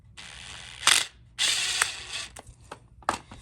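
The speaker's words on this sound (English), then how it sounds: "set these screws in there" A wood screw is driven into the wooden floor of a cargo trailer with a power driver, giving short whirring, ratcheting bursts separated by pauses and a few sharp clicks, close and moderately loud.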